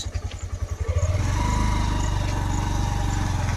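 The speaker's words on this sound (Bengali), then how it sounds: "এই আমরা বাইকে চাপলাম" A motorcycle engine putters in quick pulses, then revs up into a loud, steady drone as the bike pulls away and rides on.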